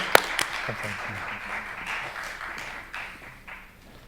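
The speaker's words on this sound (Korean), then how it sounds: "여러분 뜨거운 박수로 격려해 주시기 바랍니다" A short burst of applause from a church audience at a preaching contest, scattered claps starting with a sharp clap and thinning out, with some voices murmuring underneath.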